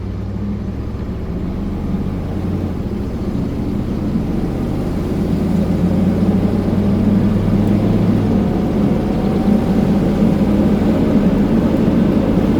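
A car with a restored 30-year-old front suspension driving steadily, with loose play in the steering, giving a continuous low engine and road rumble from inside the cabin that grows slightly louder midway.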